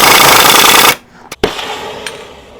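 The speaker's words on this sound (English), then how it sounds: "So I have a stronger impact gun, but I'm afraid to use it because I don't want to bust this out." An impact gun hammers at a wheel bearing fastener on a 2015 Mini Cooper's rear suspension in a loud, close, rapid rattling burst lasting about a second, followed by a couple of short clanks.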